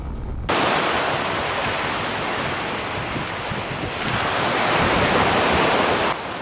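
Steady roar of sea surf washing onto Cox's Bazar beach between Himchhari and Inani, broad and continuous, with wind buffeting the microphone and slight swells in loudness.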